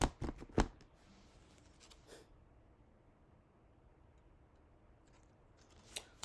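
Oracle cards shuffled and drawn by hand, a few quick riffling flicks at the start, then near silence before a brief final flick, close and soft.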